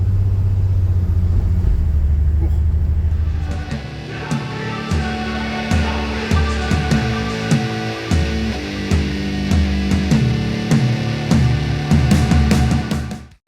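Holden VY Calais engine with a lumpy ghost cam, a deep steady rumble that gives way to a choppy, uneven idle with rhythmic lopes and pops, close and loud, no talking.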